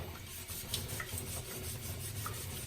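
Steady, continuous rubbing rasp of 800 grit sandpaper sanding a finish, with repeated back-and-forth strokes at close range and no voices.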